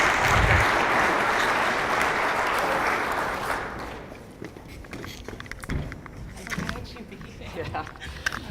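An audience claps in welcome for presenter Trish Jordan, loud and dense at first, then thinning out into scattered claps, shuffling and footsteps as the room settles.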